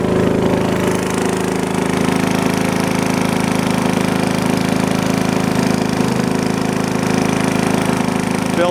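A steady, loud engine drones without a break beside a DIY brine maker while its tank fills, a constant low rumble with a rough, hammering texture and no pauses.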